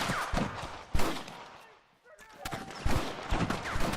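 Gunfire in Red Dead Redemption during a shootout with rustlers, loud sharp shots in quick bursts with a brief lull in the middle, with voices talking alongside.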